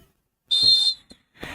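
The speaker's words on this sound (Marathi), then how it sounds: "पंचानी शिट्टी घेऊन पंच आमच्या तयारीत असत." A referee's whistle at a district-level kho kho final between Lanja and Sangemeshwar, one sharp shrill blast of about half a second followed by brief crowd noise.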